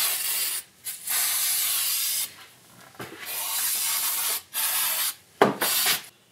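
An aerosol can sprays in several long hissing bursts, separated by brief pauses, close by and steady, while servicing a 2007 gas EZGO TXT golf cart.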